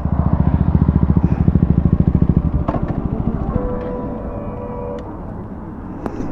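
A KTM Duke 250 motorcycle engine revs hard in a drag race, a loud, close, pulsing exhaust note that fades as the bike pulls away.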